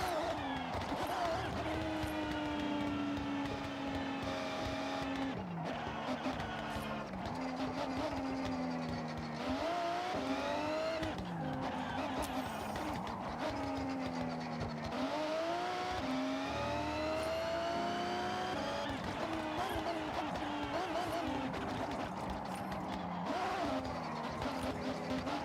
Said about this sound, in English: Alright, let's try to drift.